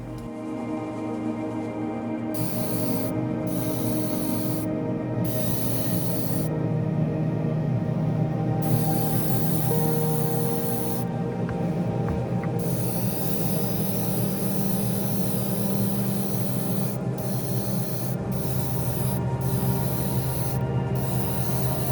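An airbrush sprays a special-viscosity candy red paint onto an Alpha Model Giulia GTAm model car, a continuous airy hiss with a steady compressor drone underneath and brief gaps where the spray pauses.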